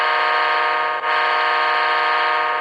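A model Amtrak F40PH locomotive's onboard sound system sounds a steady electronic horn chord, loud and sustained with one brief dip before continuing, and no voices.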